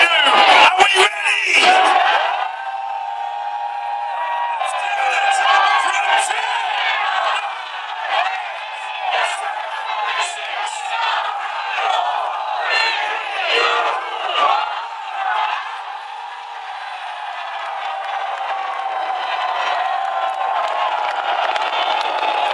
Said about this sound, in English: Everyone's going to cheer.